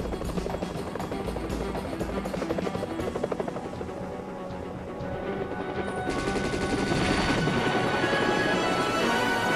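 Helicopter in the Tomb Raider III video game, a loud continuous rotor thrum with rapid gunfire bursts mixed in, the noise swelling and brightening in the second half.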